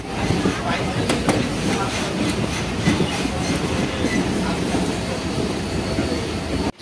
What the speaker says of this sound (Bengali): এই স্টেশন থেকে আস্তে আস্তে ট্রেন কিন্তু বেরিয়ে যাচ্ছে